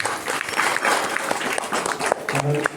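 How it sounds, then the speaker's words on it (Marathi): Audience at a Marathi kirtan breaks into brief, dense clapping, a loud burst of many hands with a few crowd murmurs mixed in. "आता जोरदार टाळ्या वाजवा."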